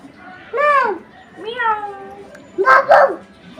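A voice imitates a cat, giving two drawn-out, wavering meows followed by a louder, brighter cry.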